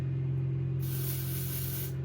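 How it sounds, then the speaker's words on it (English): A single sustained hiss of athlete's foot dry powder aerosol sprayed onto a golf club face, lasting about a second, close and loud, over a steady low mechanical hum. "athlete's foot dry powder spray, and all we're going to do is we're going to spray the face"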